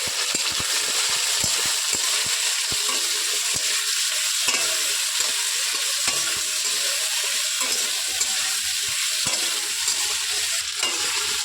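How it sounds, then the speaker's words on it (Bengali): Potatoes with salt and turmeric stirred and frying in a pan, a steady close sizzle with repeated scraping knocks of a spatula against the pan throughout. "নেড়ে চেড়ে ভালো করে ভেজে নেব।"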